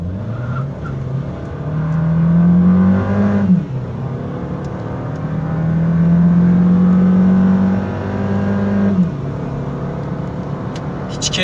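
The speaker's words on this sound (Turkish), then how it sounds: "Şimdi gaz veriyorum." A TFSI turbo car engine revs up and accelerates twice with a rising, turbo-like drone, easing off between pulls; no talking is heard.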